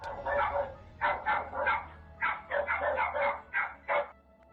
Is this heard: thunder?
no